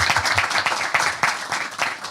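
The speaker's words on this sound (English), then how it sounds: "Could I get another round of applause?" A crowd at a church fashion show applauds steadily, dense overlapping claps with a few louder bursts, moderately loud and close.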